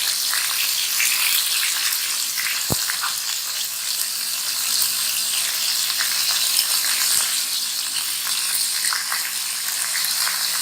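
Chicken sizzles in hot oil in a kadhai over a high flame, a steady, loud frying hiss that runs unbroken throughout with no talk.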